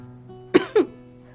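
Two quick close coughs in a row from a person, sharp and short, over a faint background hum with no talk.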